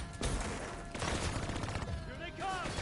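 Rapid gunfire from a Call of Duty video game, aimed at bats, crackling steadily and loudly for the whole stretch amid game effects and voices.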